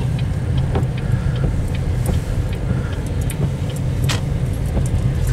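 A car idles and rolls slowly near the entrance of the one-lane Hartland Bridge in New Brunswick, the world's longest covered bridge, giving a steady, close engine rumble that continues throughout with a few faint clicks and jingles.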